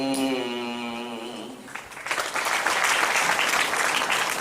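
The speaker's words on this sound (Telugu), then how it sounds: "పద్యాన్ని వినగానే ఆనందంగా చప్పట్లు కొట్టే ప్రేక్షకులు ఇంకా తెలుగునాట బతుకున్నారు" Audience applause breaking out after a Telugu poem recitation: a dense, loud wash of clapping from a crowd that rises at about two seconds and stays steady to the end, following a sung line that fades out.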